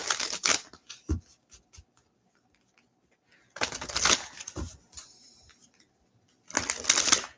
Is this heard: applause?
no